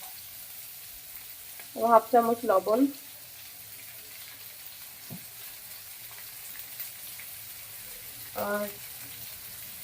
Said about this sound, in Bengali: এটা এখন সুন্দর করে 2 মিনিট ভাজা ভাজা করে নেব